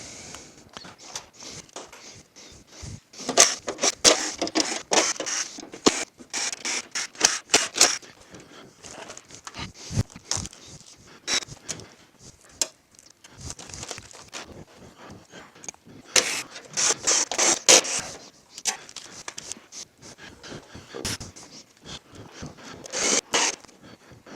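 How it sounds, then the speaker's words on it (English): Bolts are worked loose from the lithium-ion battery cover of a 2013-2021 Ford Fusion Hybrid, heard as close, rapid bursts of ratcheting and scraping clicks that come in irregular runs, with no talking. "So let's remove these bolts."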